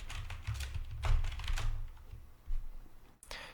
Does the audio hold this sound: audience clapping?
no